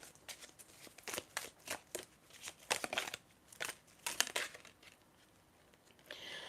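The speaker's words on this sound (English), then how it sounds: "I'm going to shuffle for some tea leaf cards now." Tea leaf reading cards are shuffled in a series of quick, crisp riffles and flicks, soft and close, with short pauses between bursts.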